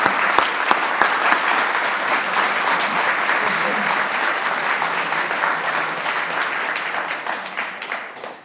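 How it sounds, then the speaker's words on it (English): Sustained audience applause at an evening talk event, steady dense clapping from a large crowd that holds for the full stretch and tapers slightly at the end, with no speech over it. "join me in giving a round of our applause and our thanks to Allison and to Barbara."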